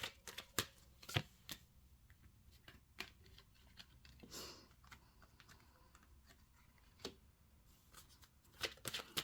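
Tarot cards shuffled and drawn close up, sharp riffling snaps and soft slides spaced irregularly with quiet pauses between.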